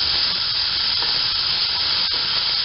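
Onion frying in a pan produces a constant loud hissing sizzle, close and unbroken, with a few faint clicks beneath it.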